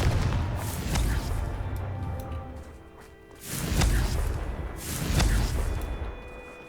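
Confringo spell explosions in Hogwarts Legacy: a series of booming blasts, each swelling into a rumbling, crackling burst, with the loudest arriving in two surges toward the end.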